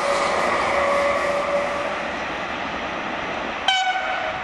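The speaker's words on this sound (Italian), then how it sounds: "Fischia una bella E652." An E652 electric locomotive sounds its horn in a long, steady whistle over loud rail rumble, followed by a second short, sharp blast near the end.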